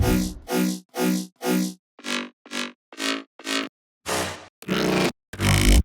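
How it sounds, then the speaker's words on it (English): Layered synth bass growl effects fire in short, punchy bursts: four even hits, then four thinner ones, then three longer, buzzier swells, each cut off by silence and heard alone. "So Brooks always layered his bass with some growl effects."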